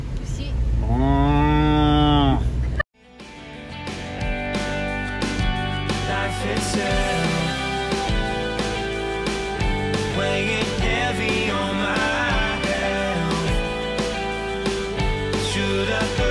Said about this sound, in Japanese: 牛。